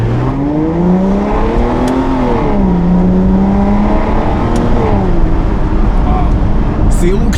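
Loud, close Aston Martin DBS V12 engine, revving and easing in a steady drone for several seconds, its tone swelling and dipping as the revs rise and fall.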